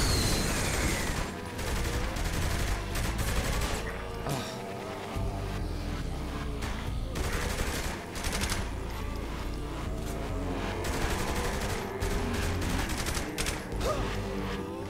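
Gunfire in Saints Row 3 horde mode pours out in dense, sustained bursts of rapid shots and heavy impacts over a loud game soundtrack, with a faint voice underneath.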